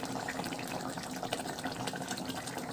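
A small pour of raw mustard oil goes into a nearly finished koi fish curry cooked with mustard and poppy seed paste, giving a steady, close liquid trickle and bubbling with no talking.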